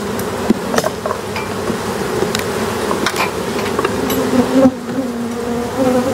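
Dense, steady buzzing of many honeybees close up in a hive as they draw comb on frames, a continuous droning hum with occasional light knocks and clicks.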